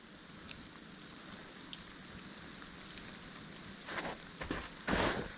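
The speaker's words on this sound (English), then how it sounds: "raining now, by gosh." Rain falls in the woods as a steady soft hiss. Louder bursts of drops and splashes come toward the end.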